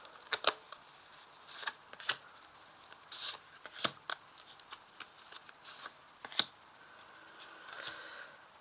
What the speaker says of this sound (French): je vais tirer là 5 cartes pour l'amour